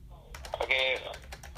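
A burst of clicky keystrokes on a computer keyboard close by, mixed with a voice talking over part of it.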